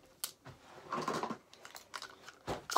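A few sharp bites and crunchy chewing bursts, close and fairly quiet, arrive in uneven clusters over a couple of seconds with short pauses between them.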